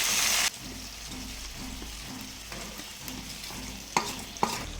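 Chicken, fried potatoes and spices sizzle in a pan as a spoon stirs them, with steady frying hiss, soft repeated scrapes and two sharper knocks near the end.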